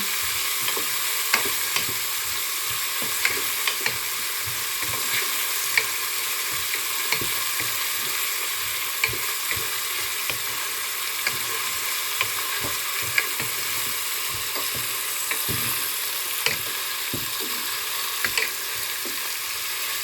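Onions sizzle steadily in a hot pan while a utensil scrapes and clicks against it in irregular stirs, close and continuous, while cooking tomato rice.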